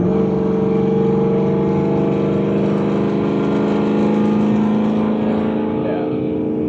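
A supercharged Ford F-150 with a dual 3-inch X-pipe exhaust idles loud and steady, its deep, dense engine drone holding near the microphone throughout.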